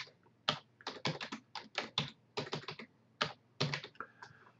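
A password is typed on a computer keyboard in a quick burst of close, crisp keystrokes, with irregular clusters and brief pauses between them and no voices.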